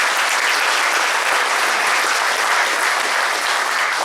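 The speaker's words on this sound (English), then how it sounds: "let's just give her another big round of applause" A crowd at a Cesar Chavez breakfast awards event in Gilroy, California, gives a steady, dense round of applause that holds at full strength from start to finish, with no voices rising above it.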